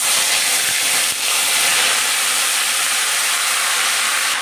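Leafy greens tipped into hot mustard oil with dried red chillies and black cumin give a loud, steady sizzling hiss that dips briefly, then carries on unbroken.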